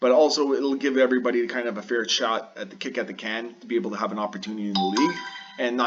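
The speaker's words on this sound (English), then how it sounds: "Sorry for the phone noise." A phone notification chimes with steady tones during a hockey video game league recap, ringing briefly beneath continuous close-up talk.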